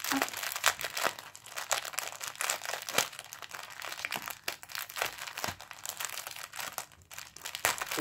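A crinkly unboxing package from a craft kit is worked open by hand, giving continuous close crackling and crumpling of plastic wrap with sharp irregular snaps and short tearing bursts.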